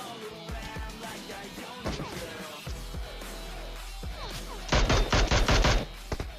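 Gunfire in the mobile battle royale game PUBG Mobile, scattered single shots and then a loud rapid burst of automatic fire near the end, all over background game sound.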